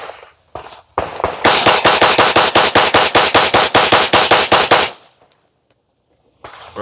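Rapid gunfire from a firearm at a shooting range, a loud close burst of about twenty evenly spaced shots fired in quick succession, with a few isolated shots before and after.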